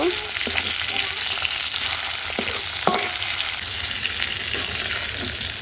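Pieces of rohu fish frying in oil in a pan, producing a loud, continuous, close sizzle with a few light scrapes and taps from stirring.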